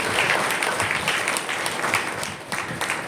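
A church congregation applauds to thank the bishop at a worship service, a dense continuous clapping from many hands in a reverberant hall, fairly loud and sustained.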